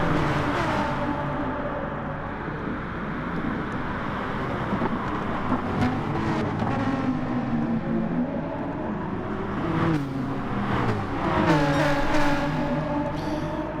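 A BMW race car engine drones and shifts pitch on the Dragon Trail circuit, a continuous close onboard roar with rising and falling revs and gear changes, no voices over it.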